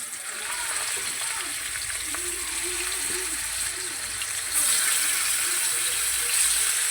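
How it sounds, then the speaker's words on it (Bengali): Pangas fish fries in oil in a wok set on a gas burner, giving a steady close-up hiss and crackle that runs throughout and grows slightly louder near the end. "এবার আমি মাছটাকে ভেজে নেব।"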